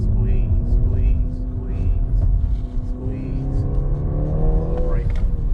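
A 2019 BMW 330i M Sport engine drones and rises in pitch as it accelerates on a race track, heard from inside the car with a voice talking over it.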